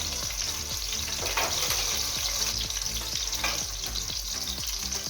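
Cumin hits hot oil alongside a frying rohu fish head, set among salt and coriander. A loud, continuous sizzle runs under rhythmic stirring scrapes and taps, with no talking.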